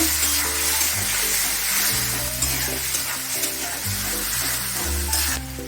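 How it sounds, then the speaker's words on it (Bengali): Steady sizzling and stirring as a tomato, cashew, ginger and green chilli paste fries for kadai paneer, heard under continuous background music. "এটাকে একটু ভাজা ভাজা করে নেব।"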